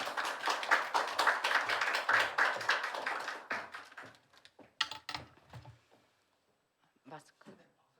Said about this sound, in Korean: 우리 목사님 나오실 때 큰 박수로 한번 모시겠습니다.